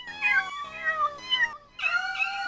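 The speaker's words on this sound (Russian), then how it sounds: "Сиамские коты." Siamese cats in the video game Garry's Mod meow several times in a row, loud and close, a run of drawn-out, wavering cries with brief gaps and no talk over them.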